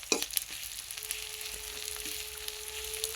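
Desi chicken frying in a pan with onion and sugar, a steady close sizzle with a few sharp crackles and faint stirring clinks, no voices.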